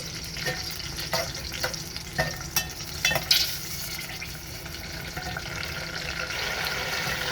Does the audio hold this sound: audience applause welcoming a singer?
no